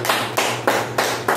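A small group claps in five sharp, evenly spaced bursts, close and loud, as a round of applause after a self-defence blocking flow drill.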